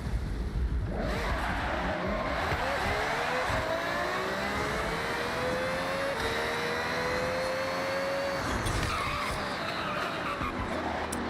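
A car races in Forza Horizon during winter online racing, engine revving and rising in pitch with tire skids and squeals, loud and continuous throughout.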